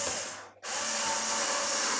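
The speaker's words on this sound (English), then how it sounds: "I'm going to drive a couple of screws." A power drill drives screws into a wooden live-edge floating shelf, a steady loud whirring that dips briefly to near silence before resuming at full strength.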